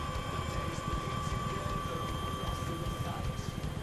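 Chinook and Blackhawk helicopters in a video game idle spooled up for departure, giving a steady, dense rotor-and-turbine rumble with a constant whine that holds at an even level throughout.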